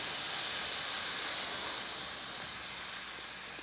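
Sweet potatoes fry in hot oil, giving a steady loud sizzling hiss with no pauses. It fades slightly toward the end, with no voices.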